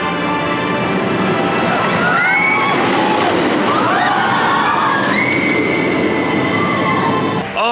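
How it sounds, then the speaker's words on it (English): Zadra roller coaster at Energylandia roars along its track, a loud continuous rumble with rising and falling wheel squeals and whooshes, close and intense, fading abruptly at the end. "Oh, we just had an incredible ride on Zadra."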